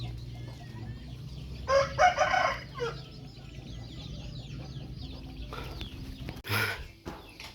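Chickens cluck and squawk around a farmyard near a rice field, with a rooster crowing in bursts over steady background noise, fairly close and moderately loud.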